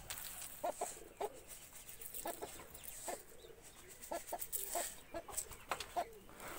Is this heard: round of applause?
no